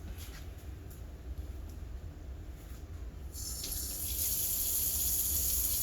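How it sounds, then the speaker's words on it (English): A sink faucet runs steadily for handwashing, with a constant low water rush that grows brighter and louder partway through as the flow strikes hands or the basin. "I'm going to start by washing my hands."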